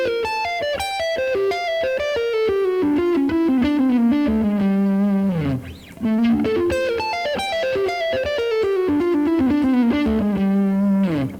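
An electric guitar with distortion plays flowing melodic lines and arpeggios, descending runs repeating in two phrases separated by a brief pause.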